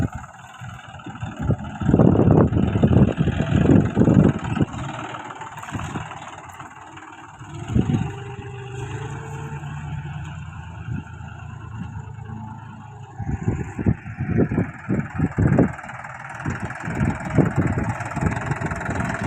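A tractor engine runs in a field during sowing, a mid-pitched motor that rises to louder bursts and drops back to a steadier idle-like drone, close by, with no talk.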